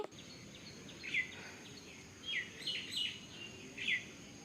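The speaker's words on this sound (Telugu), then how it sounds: "ఇక్కడైతే బర్డ్ సౌండ్స్ కూడా అసలు ఎంత బాగా వినిపిస్తున్నాయో మీరే వినండి" Birds chirp and tweet among rooftop greenery, a few short, fairly faint calls scattered over a steady outdoor background hum.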